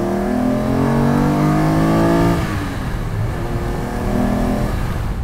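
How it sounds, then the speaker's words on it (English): A TVR Tamora sports car engine revs hard and accelerates, a loud rising wail that drops back after a gear change and climbs again, close and alone. "You've really got to rev that engine out to get the best out of it."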